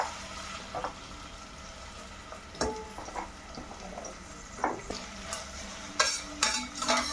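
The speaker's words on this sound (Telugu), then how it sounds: "పచ్చిమిరపకాయలు వేసుకుందాం. ఉల్లిపాయలు వేసుకుందాం. కరివేపాకు వేసుకుందాం." Green chilies, onions and curry leaves frying in hot oil in a kadai, with a soft continuous sizzle broken by scattered clinks and scrapes of a spoon stirring close by.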